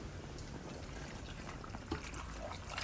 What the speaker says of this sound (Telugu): అన్ని నీళ్ళు పోసాను